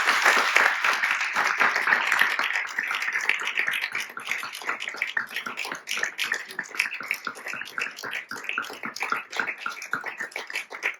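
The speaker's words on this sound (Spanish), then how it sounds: "les pido otro fuerte aplauso para ellos." Sustained applause from a university audience, steady dense clapping that stays fairly loud for the whole stretch without any talk over it.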